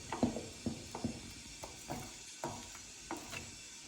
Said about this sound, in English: so you want to really incorporate it, so you just stir it in